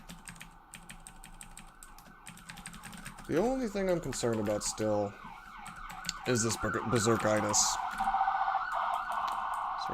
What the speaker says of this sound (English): It's an ambulance or something.